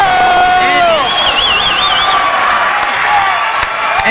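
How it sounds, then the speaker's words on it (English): A basketball crowd in a gym erupts after a deep three-pointer, loud cheering, shrill whoops and clapping that stay high for several seconds while a voice talks over it. "the whole crowd is going crazy"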